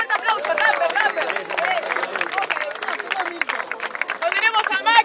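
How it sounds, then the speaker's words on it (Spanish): Audience at an Invasión Rapper freestyle rap battle cheering and clapping, a loud mixed roar of claps, shouts and crowd chatter throughout. "Quiero un fuerte aplauso para Neis de Santa Fe."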